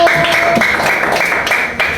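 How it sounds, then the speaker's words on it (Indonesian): A classroom group of university students claps for a presenting group, a short burst of sharp, irregular hand claps close by that lasts about two seconds. "Tepuk tangan untuk kelompok 1."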